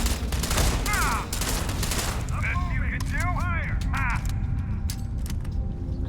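Rapid bursts of gunfire ring out while shooting at a level 94 target on very difficult in a video game, dense repeated shots with electronic effect chirps layered over a busy game soundscape.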